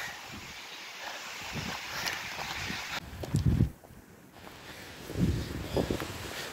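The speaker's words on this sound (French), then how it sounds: "En plus il y a un vent." Wind gusting across the microphone outdoors, a low rumbling buffet that rises and falls in a few strong bursts.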